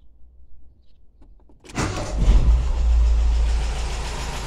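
A Volkswagen Gol Quadrado with a CHT 1.6 petrol engine cranks briefly and catches, then settles into a loud, steady low idle that runs alone after the start.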